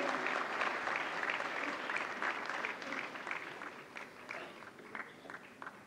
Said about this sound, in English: Applause for Shri B. Lenin.